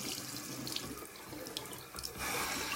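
Water runs from a sink faucet over paint brushes being wetted, a steady splashing stream with small drips and shifts in flow, and it grows a bit stronger near the end. No one speaks.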